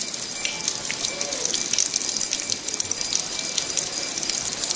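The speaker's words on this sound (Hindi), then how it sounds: "ये देखिए पानी कहाँ से आ रहा है।" Water flows and gushes steadily inside a stone Shiva cave temple in Uttarakhand, a continuous bright rushing sound filling the space without any voices.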